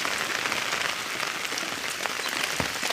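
Dense, steady patter of heavy monsoon rain in the Konkan region hitting surfaces nearby, a continuous hiss with scattered louder drops.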